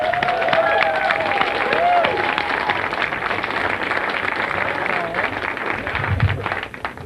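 An audience at a stand-up comedy show claps for a comedian taking the stage. The applause is dense and sustained across the whole stretch, and a voice is heard over it near the start.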